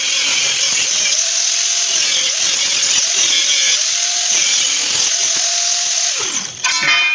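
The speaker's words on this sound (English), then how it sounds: "I'll come back with a sanding disc and just sort of grind down till I get a nice clean" A sanding disc on a power tool grinding down a metal patch, a loud high whine that rises and dips as it bites into the metal in repeated passes, with bursts of rough scraping.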